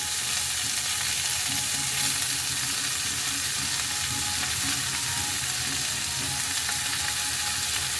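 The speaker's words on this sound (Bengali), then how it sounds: "শাকটা কিছুটা ভাজা করবো" Kalmi greens fry with onion in a hot pan, giving a loud, constant sizzle and crackle with occasional soft stirring scrapes, close up and without any talk.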